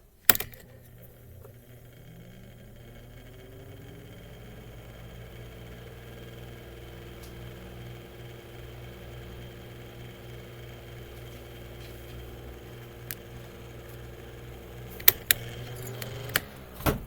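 A Mainstays 9 inch high velocity fan starting up on its low setting: a low steady motor hum rising to a sustained drone with faint rattles, then a few sharp clicks and knocks near the end.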